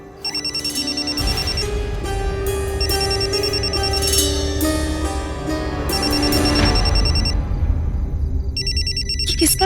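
A mobile phone ringtone rings muffled from inside a bag, repeating in bursts over a low background hum, with no talk during it.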